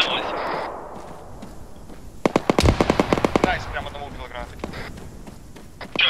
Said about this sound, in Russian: Граната кинулась.